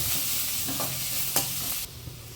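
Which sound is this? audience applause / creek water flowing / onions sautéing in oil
onions sautéing in oil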